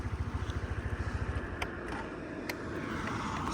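A Suzuki Address V125 scooter engine starts and settles into a fast, even idle putter, quiet and close, with a couple of faint clicks afterward.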